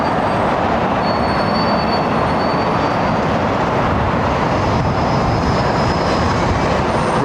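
A Singapore Airlines Airbus A380 with Rolls-Royce Trent 900 engines departs Heathrow's runway 09R, a loud, continuous close roar with faint high whistling tones drifting above it.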